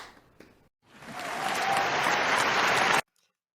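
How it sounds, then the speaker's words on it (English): A short, fairly faint wash of crowd applause for doctors and nurses swells in after a quiet gap, holds steady for about two seconds, then cuts off abruptly. "Let's just applause."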